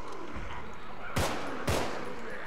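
Two sharp, loud gunshots fired through a wall at a zombie in a prison in the co-op game Contagion, spaced about half a second apart over a low ambient background.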